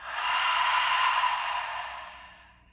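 A person breathes out in one long, steady, airy exhale that swells early and then slowly fades away, close and alone with no other sound.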